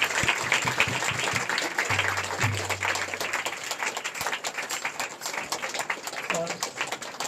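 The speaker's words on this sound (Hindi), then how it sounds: "जोरदार ताली बजाएं परमेश्वर को।" A worship-service congregation claps loudly together, a fast, dense run of hand claps heard up close, with voices talking and calling out over the applause.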